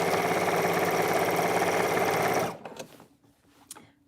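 A sewing machine stitches a seam on a shift dress, running loud and steady with a dense mechanical whir for about two and a half seconds, then stopping abruptly and leaving a few faint clicks and handling noises.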